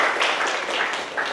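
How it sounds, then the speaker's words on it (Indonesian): Audience clapping at a university public lecture on innovation and productivity, a dense, even burst of applause from a room of listeners, close and steady for the brief moment. "Tepuk tangan untuk Mas Dava."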